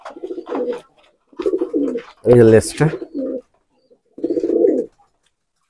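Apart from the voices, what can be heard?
female Nildumma pigeon cooing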